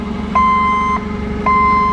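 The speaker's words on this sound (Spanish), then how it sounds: "ahí nos damos cuenta que la alarma de reversa sí funciona" Reversing alarm of a CLARK C32C diesel sit-down forklift, two loud steady electronic beeps repeating at a slow regular pace over a low idling engine rumble.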